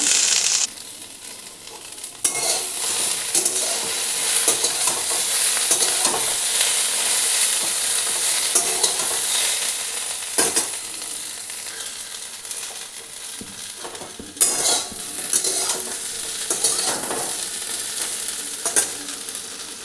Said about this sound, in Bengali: ভেন্ডিটা একটু ভালো করে ভাজবো।